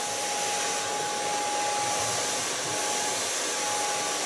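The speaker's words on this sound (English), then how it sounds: "Start blow drying with a large brush. My blow dryer of T.K.S." A T.K.S. blow dryer runs steadily while hair is brushed out with a large Ergo brush, a continuous close whooshing airflow with a thin tonal whine and no talk.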